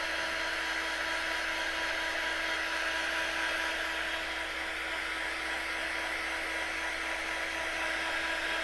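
A hair dryer blows steadily and close on a wooden easel piece of a farmhouse breadboard display stand, a constant airy whir with a faint electric hum running unbroken throughout, no voices over it.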